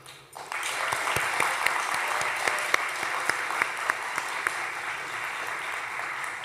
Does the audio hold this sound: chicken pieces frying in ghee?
no